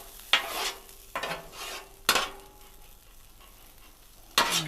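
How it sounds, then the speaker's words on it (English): Pulled pork chimichanga filling being stirred and scraped on a 36-inch Blackstone griddle, four sharp metal spatula scrapes over a soft steady sizzle, no talking. "Get all that mixed in here."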